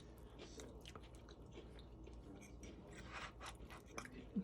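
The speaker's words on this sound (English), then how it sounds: "Crust is really crunchy." Close, crunchy biting and chewing of cranberry pie crust, with brittle crackles over a steady low background hum.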